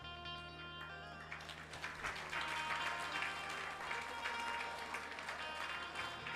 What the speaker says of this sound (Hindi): तालियां खुशी में बजी हैं।